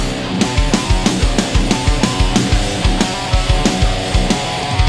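Loud, pounding arcade din dominated by thumping music with a steady, driving beat that fills the space continuously.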